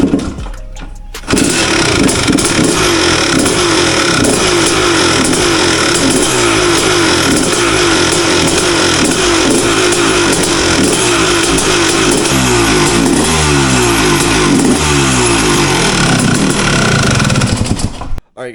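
A Yamaha YZ250 two-stroke dirt bike with a jetting problem starts up and revs, loud and close, a continuous raspy engine drone with repeated throttle blips and pulsing revs that cut off abruptly at the end.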